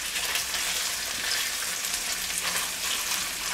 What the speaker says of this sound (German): So lasse ich das jetzt hier brutzeln.